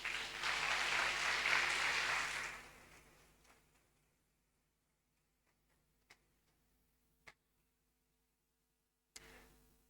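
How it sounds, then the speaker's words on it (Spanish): A church congregation applauds in a burst of clapping that lasts about two seconds and then cuts to near silence, with a few isolated faint clicks afterward. "¿Cuántos le dan un fuerte aplauso al Señor?"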